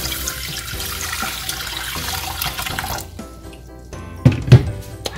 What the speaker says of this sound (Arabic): وباش نزيدوا عليهم شويه ماء.